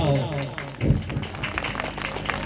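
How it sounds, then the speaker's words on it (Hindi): A crowd at a Guru Ravidas Jayanti guest welcome event gives loud applause, a thick wash of clapping running the whole time, with a voice heard at the start. "तो एक बार दोनों हाथ उठाओ और जोरदार ताली बजाओ"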